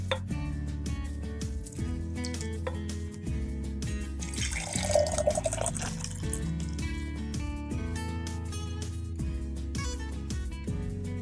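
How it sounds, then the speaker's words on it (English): Beet smoothie juice is poured from close by into a serving jug of ice cubes, a soft steady trickle and splash that swells briefly midway over quiet background music. "I have taken here some ice cubes in my serving jug, and I'm gonna pour this juice."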